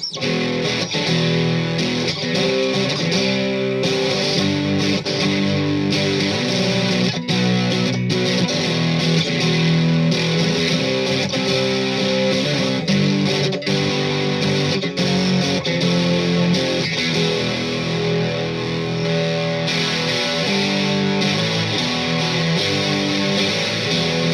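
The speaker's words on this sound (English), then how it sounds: "let's move up in scale of gain to the Boss Turbo Distortion DS2 pedal" An electric guitar through a Boss DS-2 Turbo Distortion pedal plays sustained, buzzy chords and riffs, heavily distorted, thick and saturated, with no voices.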